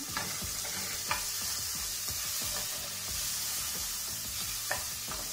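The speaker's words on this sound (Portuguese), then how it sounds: "Vou deixar minha cebola, pessoal, é, dourar aqui também" Onion fries with browned garlic in a pan for a bolognese lasagna, a steady close sizzle broken by regular spoon scrapes and light taps, with no voices.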